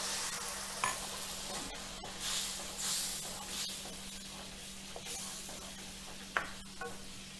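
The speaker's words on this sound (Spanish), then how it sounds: "Aquí vamos a agregar el vino para que se vaya evaporando el alcohol." Wine poured into a hot pan while cooking fish in seafood sauce sizzles and hisses steadily, with occasional stirring scrapes and small bursts as the alcohol cooks off, close and moderately quiet throughout.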